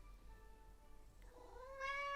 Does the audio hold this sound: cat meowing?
yes